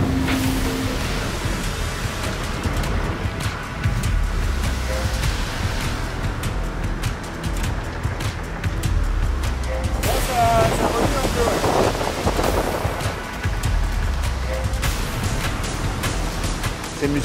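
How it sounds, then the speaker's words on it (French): Strong wind of 35 to 38 knots and heavy seas aboard a racing sailboat in the Atlantic: constant roaring wind buffeting the microphone, with waves crashing and spray surging against the hull. "Il y a entre 35 et 38 nœuds de vent avec pas mal de mer."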